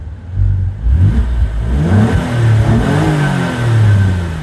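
Alfa Romeo Brera 3.2 V6 SV Q4 coupe engine revs hard from the rear, several rising and falling blips over a steady throaty idle, loud and close with no talking.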